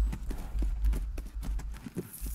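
Horse hooves clip-clopping in the horse riding game Tales of Rein Ravine during a show jumping competition: a steady, moderately loud rhythmic trot of hoofbeats over a low rumble, with no talking.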